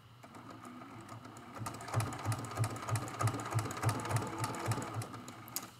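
A sewing machine stitches a straight line across a hummingbird and flowers quilt, its needle pounding in a fast, even rhythm that starts up after a quieter moment and runs close and steady.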